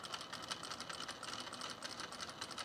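A sewing machine stitching a blazer seam without back stitching, a quiet, rapid, steady mechanical whirr with fine ticking pulses throughout.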